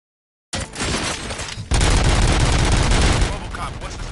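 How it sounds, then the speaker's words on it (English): Gunfire erupts in the RoboCop video game on PS5: a sudden burst of shots, then a denser, louder volley of rapid fire that continues steadily to the end. "Gunshots? What's going on?"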